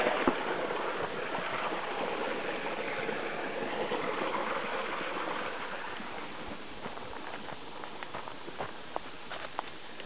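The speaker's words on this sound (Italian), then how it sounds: "E ora l'acqua passa." Irrigation water flowing and splashing steadily along an old-style garden channel in a vegetable plot in Calabria, a continuous close trickling wash with a few faint taps near the end.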